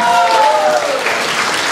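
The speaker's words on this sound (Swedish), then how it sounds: "Jag tycker ni ger honom en stor varm applåd." Audience clapping at an outdoor concert by a Swedish dance band, a short loud burst of applause following a voice on stage.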